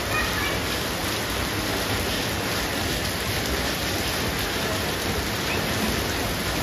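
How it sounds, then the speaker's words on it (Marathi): Heavy rain falling in the open at a fish market, a loud, unbroken roaring wash of drops that stays constant throughout with no clear voices. "फुल पाऊस पडतोय मोकळ्यामध्ये, बघू शकता तुम्ही"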